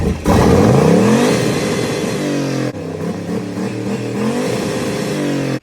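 The engine of an LS-swapped Chevrolet Malibu roars loudly close by, revving up and down in repeated sweeps, briefly cutting out midway, then revving again before shutting off.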